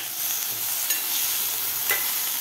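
Chopped tomato and onion sauté in a pan with a constant bright sizzle, plus a couple of light stirring clicks and no one speaking.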